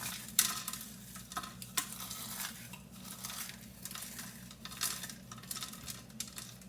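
Bacon sizzles and crackles steadily in a frying pan, with soft scraping stir strokes and occasional louder spits over a low background hum.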